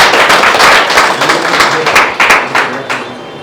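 Loud applause from an audience at a Tamil astrology talk, many hands clapping close and dense for several seconds, tapering slightly toward the end.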